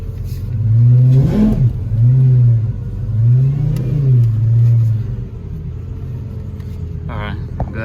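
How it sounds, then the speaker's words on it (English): Lamborghini Aventador SVJ or SV engine revving loudly in repeated rising and falling blips, a deep roaring rumble up close, with people talking over it and a brief higher whine at the end. "I'm gonna give some revs for those people."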